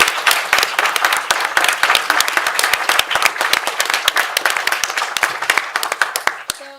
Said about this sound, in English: please join me in thanking everyone with a large round of applause